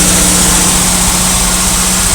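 Jeep CJ7, about forty years old, engine running steadily after its gummed-up fuel pump was freed, a loud, close, constant droning idle with no pauses.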